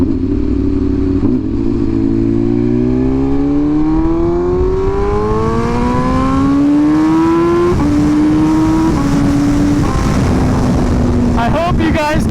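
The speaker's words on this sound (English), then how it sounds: "I was on the same point of throttle all throughout that pull there in second gear" A 2023 BMW S1000RR sportbike accelerates hard in second gear at steady throttle, its engine note climbing in a long rising howl, loud and close, with a brief shift-like break near the end.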